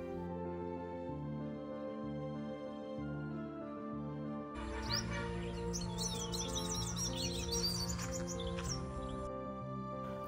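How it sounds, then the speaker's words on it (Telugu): Birds chirp in the morning countryside, a bright cluster of quick twittering calls that starts partway through and continues for several seconds over a steady humming tonal background. "మార్నింగ్ పచ్చుల కిలకిలలు వినడానికి ఎంత వినసొంపుగా ఉందో కదా"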